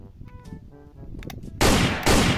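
A toy red shotgun fires: after some quieter clicking and handling, two loud bursts of broadband noise go off close by, the second following about half a second after the first.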